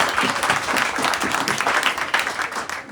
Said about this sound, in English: Let's give a clap to that